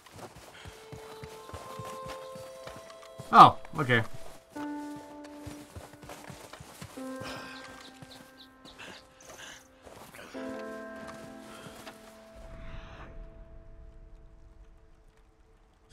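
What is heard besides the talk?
horse hooves clip-clopping in a video game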